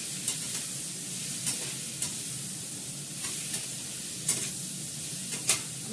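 A utensil stirs food frying in a pan with very little oil, seasoned with salt and pepper, giving a steady close sizzle broken by a scrape or clack every second or so, with no talking.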